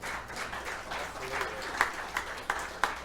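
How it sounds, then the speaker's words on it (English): Light round of applause from a small crowd at Bob's, soft scattered clapping with a few sharper claps standing out near the end, fairly quiet with faint voices beneath. "another round of applause for her"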